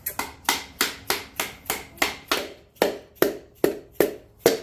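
Steady, even tapping on a piston ring compressor band worked around a piston during a 454 engine build, about a dozen sharp, close metallic knocks spaced a little under half a second apart, with no talk.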